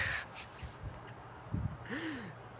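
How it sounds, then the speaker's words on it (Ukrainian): Gulls call over Dublin, Ireland, giving a few short harsh cries and one rising-falling squawk at moderate distance, with outdoor background noise and a faint breathy vocal sound in between. "О, ну оце ж чайка."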